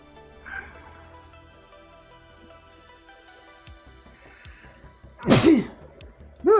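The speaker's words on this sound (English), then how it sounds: "Ooh, excuse me for the sneeze." A single sharp sneeze bursts out close by near the end, loud against a quiet indoor background with faint ambient noise, followed by the start of another loud sound.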